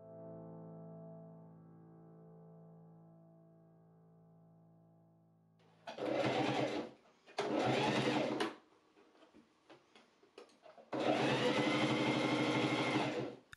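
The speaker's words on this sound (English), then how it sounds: "I machine top stitch along the shoulder lining seams to flatten the seams" A sewing machine top stitches along the shoulder lining seams of a corset hoodie, running in three loud, close bursts after a quieter hum, with short pauses between the runs.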